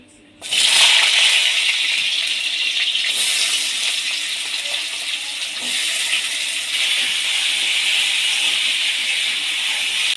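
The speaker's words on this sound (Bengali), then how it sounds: "এবার আমি কেটে রাখা আলুগুলো ভেজে নেব" Cut potatoes frying in hot mustard oil in a kadai let out a loud, steady sizzle that starts abruptly and holds a dense hiss throughout, with no voices over it.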